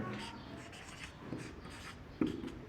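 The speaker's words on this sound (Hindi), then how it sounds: "तो हम यहाँ लिखेंगे फैक्टर्स" A pen writing factors on paper during a maths lesson on HCF and LCM, with soft close scratching strokes and a couple of brief taps, no talk.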